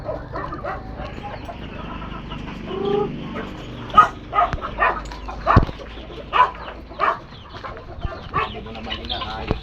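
Chickens being fed cluck and squawk in a busy flock on a rural Philippine farm, with sharp bursts of calls and scattered pecking sounds, close by and lively.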